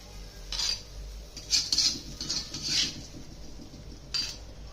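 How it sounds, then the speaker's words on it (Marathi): Roasted raw mango and tomato going into a mortar and pestle for chutney, heard as a handful of light clinks and clatters of utensils, moderately close, spread over a few seconds with short gaps and no talk. "आता हे ना खलबत्त्यामध्ये करून घेते मी आता चटणी याची।"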